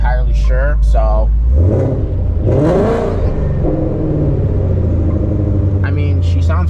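A tuned car fitted with a Lund Racing tune idles with a steady low rumble and a brief rev partway through, close and loud, with someone talking over it.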